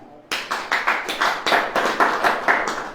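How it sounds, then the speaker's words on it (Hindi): A church congregation claps hands together in a steady run of about ten sharp, fairly loud claps at an even rhythm, with no talk over them. "पहले ताली बजाएं।"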